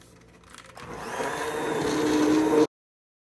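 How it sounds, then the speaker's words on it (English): An immersion or countertop blender purees simmering red pepper soup, its steady motor whir building in loudness over about two seconds before cutting off abruptly; no talking. "I'm gonna go ahead and puree"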